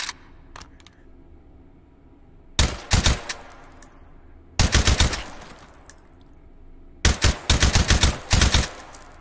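An AK rifle fires in the VR video game H3VR in three sharp bursts of rapid, loud shots separated by quiet pauses, with faint handling clicks between them.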